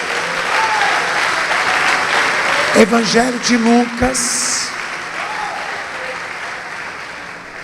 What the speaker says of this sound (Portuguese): Então vamos aplaudir o Senhor Jesus